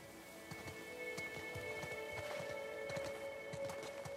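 Horses at the stables in The Last of Us Part II clop their hooves in a quiet, uneven rhythm, with soft patter like rain in the background and faint tonal ambience.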